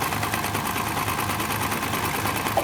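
A sewing machine runs steadily, stitching a mm-wide seam along the edge of a dress sleeve; a continuous close whir with fast regular needle clatter throughout, no talking.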